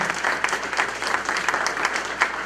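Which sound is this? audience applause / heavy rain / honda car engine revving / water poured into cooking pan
audience applause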